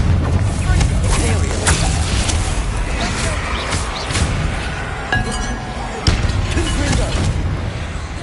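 A Confringo fire spell blasts off in Hogwarts Legacy: a steady, dense roar of crackling magic with sharp clinks and whacks cutting through, loud and close throughout, with a voice talking over it.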